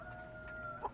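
A chicken gives a short cluck near the end, over a steady background hum and faint farmyard noise, while chickens are bathed to remove lice.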